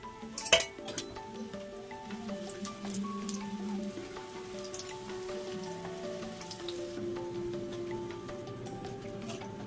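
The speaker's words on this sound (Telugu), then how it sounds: "మూడు టేబుల్ స్పూన్ల నూనె అండి ఇందులో చల్లమిరపకాయలు వేయించి తీసుకుందాము" Green chillies frying in hot oil give a soft, continuous crackle and spatter with a faint metallic clink near the start, fairly quiet and steady.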